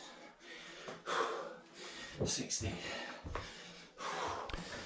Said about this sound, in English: You can tell from the grimace on my face and the huffing and puffing and gasping that I'm really struggling here.